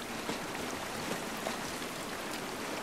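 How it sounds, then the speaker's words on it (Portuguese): Steady rain in The Last of Us Remake, a dense even hiss of falling drops on surfaces that runs alone and unbroken, with no talk over it. "A chuva não vai nos ajudar."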